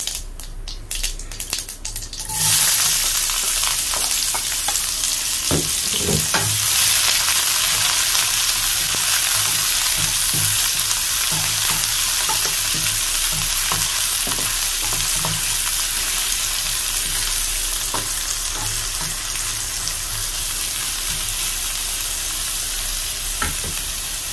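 Oil hisses loudly as shallots drop in for black pepper crab, then a steady, dense sizzle continues with scattered pops and crackles throughout.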